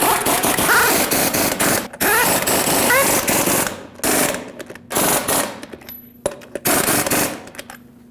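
An impact wrench tightens lug nuts on the rear wheel of a 2009-2010 Dodge Ram 1500, firing loud, close, rattling hammering bursts of a second or so, separated by short gaps.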